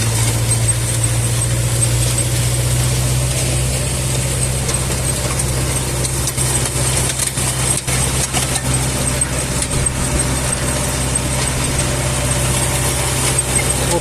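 Tractor engine running steadily while sowing soybeans in a field, a loud continuous low mechanical drone with a strong hum and slight fluctuations, no speech over it.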